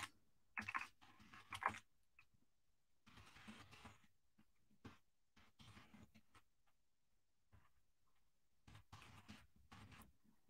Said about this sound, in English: I can't talk and type at the same time.